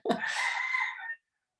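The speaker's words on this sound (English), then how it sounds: "rooster crowing in the background" A single rooster crows once, a short rasping call of about a second at moderate distance, then silence.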